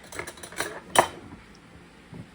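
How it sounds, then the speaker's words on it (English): Spoon pushing a dandelion mixture through a metal strainer, giving a few close, light clinks and scrapes with one sharper knock near the middle, then trailing off to quiet. "I'm going to start pushing it with a spoon"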